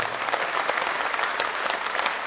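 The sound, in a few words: audience applause after children's dance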